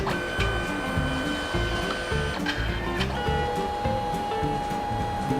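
A Canon SELPHY CP1300 photo printer lays down its magenta colour layer with a loud, steady mechanical whir, rhythmic motor pulsing and a sustained tonal hum.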